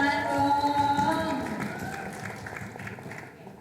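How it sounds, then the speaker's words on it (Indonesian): Audience applause at a sellers' summit, with crowd clapping mixed with voices and a tonal sound that fades out early, the clapping gradually thinning toward the end. "Tepuk tangan dong."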